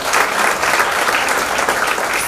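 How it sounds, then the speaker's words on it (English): Students, teachers and parents at a school event give loud, continuous applause that stays full and steady throughout. "a big round of applause for all of you here today"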